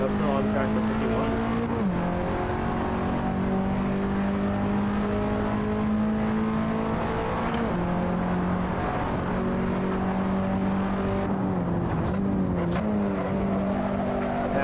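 Race car on the CMP track, engine note steady and loud with pitch drops as the driver brakes and downshifts several times, a driver talking over it.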